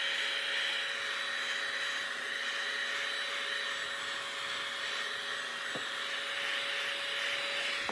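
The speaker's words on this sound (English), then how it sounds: "So we're gonna heat set this and do another coat." Heat gun or hair dryer setting a coat of paint on a baitfish lure, a steady close whooshing blower drone with an even tone throughout and a couple of tiny clicks.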